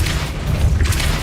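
The Depulso force spell cast in Hogwarts Legacy, a loud deep boom with a rumbling blast that fills the whole moment, no talking.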